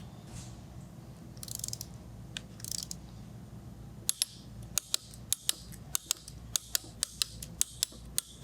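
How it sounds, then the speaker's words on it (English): A torque wrench tightening bolts to 25 foot-pounds on a centrifugal blower bearing housing gives about a dozen sharp, close clicks at a steady pace over a low background hum. "we'll take our torque wrench and set this to 25 foot-pounds"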